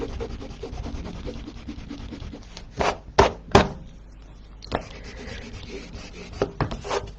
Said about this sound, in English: I just need to rub that bit there